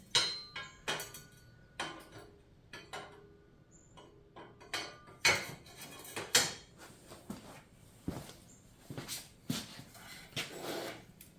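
A metal piece is fitted to a rotary hoe with a bolt and an R-clip: irregular metallic clanks, taps and knocks close by, some sharp, others dull, scattered across a quiet workshop without talk.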